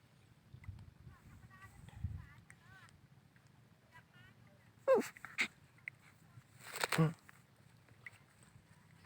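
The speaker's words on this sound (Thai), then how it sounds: "ลูกหมาดูดิ" A puppy whimpers and yelps a few times in short bursts, close by, with people talking softly around it.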